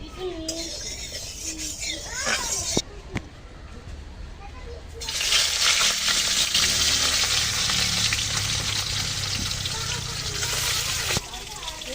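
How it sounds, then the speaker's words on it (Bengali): Bele and tengra fish fry in hot oil in a wok, the sizzle swelling sharply partway through into a strong steady hiss, with a voice talking over the quieter opening. "আমি কড়াইতে তেল দিয়েছি, তেলটা গরম হয়ে গেছে। আমি এখন মাছগুলো প্রথমে ভেজে নিচ্ছি।"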